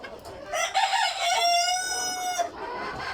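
Egyptian Fayoumi chickens in a coop give a loud, close, sustained rooster-like crow with clucking around it, one long drawn call that fades near the end, with no talking.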